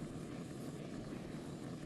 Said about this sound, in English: You get chased by a police helicopter all the way across the map